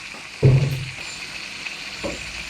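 Chicken fries in a pan with onion and ginger as tomato goes in. A steady soft sizzle runs throughout, broken by a low thump near the start and a fainter knock of stirring later.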